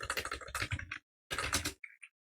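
Keys clattering on a computer keyboard as database syntax is typed, close and crisp in two quick bursts separated by a brief pause, ending with a couple of isolated taps.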